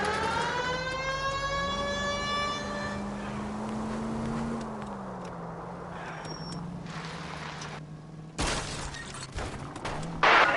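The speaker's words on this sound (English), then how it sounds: "putting the siren on might remove the element of surprise from your hit and runs" Police car siren in the video game L.A. Noire, a rising and falling wail with a drawn-out tone, mixed with engine and traffic rumble, followed near the end by a sudden loud crash-like burst.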